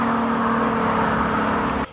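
Supercharged Audi S4 engine breathing through a titanium intake, a loud steady roar with a droning whine held for nearly two seconds before cutting off abruptly.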